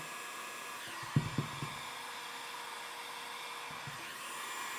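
A heat gun blows with a steady whooshing hum while warming a vinyl side number plate graphic on a 2017 Honda CRF450, with a few soft handling knocks partway through.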